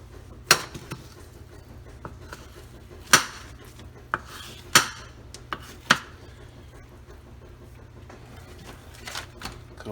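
A sharp knife cuts and trims raw brisket, giving a handful of crisp, separate knocks and scrapes spaced irregularly over quiet background noise.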